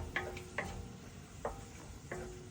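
Zha jiang mian sauce stirred in a pan, giving four separate scraping strokes spaced about half a second to a second apart over a faint low sizzle, close and fairly quiet, with no talking.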